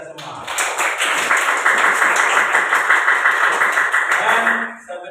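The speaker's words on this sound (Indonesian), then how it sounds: "Tepuk tangan untuk kita semua." An audience gives sustained, dense applause at a teacher-training session in Surabaya, loud and steady for several seconds before tapering off.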